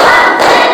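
Four hand claps in a classroom, loud and close, run together into one dense burst of slapping with no pauses between them and no voices over it.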